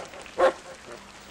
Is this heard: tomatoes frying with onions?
no